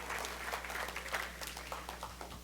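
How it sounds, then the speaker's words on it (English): An audience applauds steadily for Uncle Steve, the brother-in-law, at a talk on being an encourager; the clapping is moderate and roomy, a continuous wash of hands with a few louder claps standing out, and no talking over it. "Just give Uncle Steve a big round of applause"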